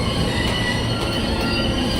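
A KRL commuter train bound for Cikarang runs at midday, giving a loud, steady rumble of wheels on rails with a faint metallic squeal throughout, close and continuous with no voices.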